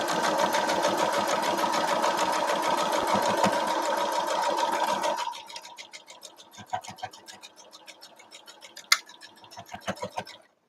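A sewing machine stitches a quarter-inch seam along the fabric sides of a globe ornament, running steadily and loud for about five seconds, then slowing to scattered close ticks and short bursts.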